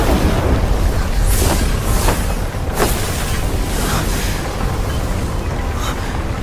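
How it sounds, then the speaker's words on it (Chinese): A roaring space-storm wind effect from an animated fantasy series fills the scene. The rushing noise is loud and continuous, with deep rumbling booms and several sharp gusting surges. "空间路径被破坏，形成了空间风暴。"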